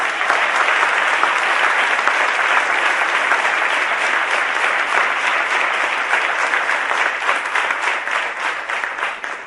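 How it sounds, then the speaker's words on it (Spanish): A crowd applauds at a political campaign event, dense and loud continuous clapping that holds steady and starts to fade only at the very end. "Os pido un aplauso para todos ellos,"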